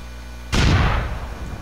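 A single loud, booming gunshot in the video game GTA 4, sharp onset after a brief lull, then a rumbling decay that fades over about a second.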